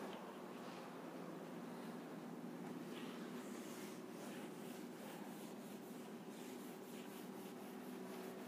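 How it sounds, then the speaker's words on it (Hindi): A board is rubbed clean during a classroom lecture, producing a steady, soft, continuous scrubbing hiss with faint repeated strokes and no voices. "रब कर दो इसको।"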